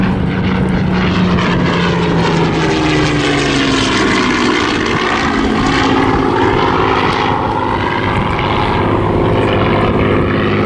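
Hawker Hurricane LF363, a Battle of Britain Memorial Flight propeller fighter, roars past at an evening airshow display in Southport, its loud, steady engine drone rising and falling in pitch as it flies by, with no talk.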